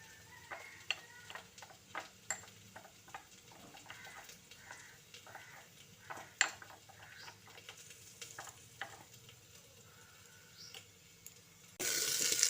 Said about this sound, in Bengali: এবার সামান্য একটু জল দিয়ে মশলাটা গুলে নিচ্ছি